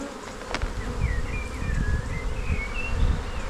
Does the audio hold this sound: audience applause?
no